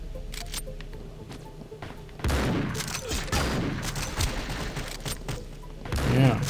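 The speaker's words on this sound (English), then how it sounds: "you release both barrels at the same time, I guess" Double-barrel shotgun in a video game, discharged with both barrels at once: a sudden heavy blast at about two seconds followed by dense crackling gunfire and thuds, with a second loud burst near the end.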